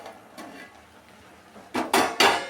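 A metal lid set onto a cooking pot of rice during home cooking, giving three sharp clattering knocks near the end, close and fairly loud after a quiet start.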